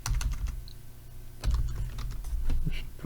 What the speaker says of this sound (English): Sorry about not typing properly